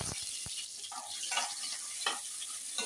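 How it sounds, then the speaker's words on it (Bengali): Garlic frying in oil in a pan, a soft continuous sizzle close by with occasional light stirring clicks and scrapes, fairly quiet and without speech. "রসুনটা ফ্রাই করে নেব।"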